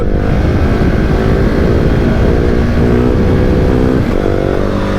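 A 2019 KTM 690 SMC R single-cylinder motorcycle revs hard while wheelieing in second gear, the engine pitch climbing and dropping in several loud surges close to the rider.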